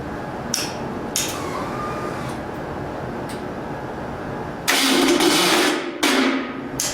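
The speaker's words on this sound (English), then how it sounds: "Let me try to fire this thing up for you." A rebuilt engine with a troublesome starter is cranked, giving several short clicks and bursts, then two louder rough bursts of cranking or sputtering, with quiet background between attempts.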